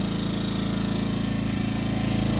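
A WEN 56225i inverter generator's new engine runs steadily during its break-in period, a loud, even drone with a low, constant pulsing hum and no pauses or voices.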